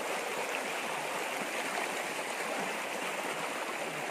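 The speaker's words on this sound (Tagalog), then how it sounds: "sapa, ilog pa rin, ilog ba yan?" A shallow stream flows steadily on the way to farmland, giving a close, continuous broadband rush and babble of water with no talking.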